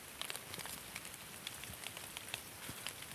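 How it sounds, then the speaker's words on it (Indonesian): Rain falls outdoors near a forest at a bathing well, a faint, continuous patter of scattered drops ticking on surfaces. "Aduh. Hujan."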